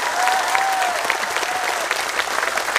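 Loud, sustained applause from a large audience at an Islamic sholawat gathering in Taiwan, dense clapping filling the whole stretch at a steady level, with a faint whistle-like tone drifting through.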